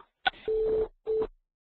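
A phone keypad gives a brief click and then two short tones, star and six, pressed to mute a call. They sound separate and clear against silence.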